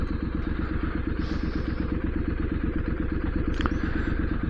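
A motorcycle rides steadily past at close range, its engine giving a continuous pulsing throb with rapid regular firing beats, loud and unbroken throughout, with a brief rattle partway through.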